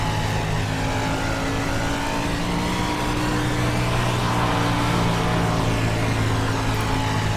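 A 305 sprint car engine roars continuously at Eldora in the iRacing game, a loud, sustained high-revving drone with other cars blending in, no voices.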